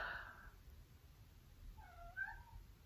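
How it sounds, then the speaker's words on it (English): A cat lets out two drawn-out meows, one right at the start and a wavering, whining one later, fairly faint against a quiet indoor room. "My cat is yelling."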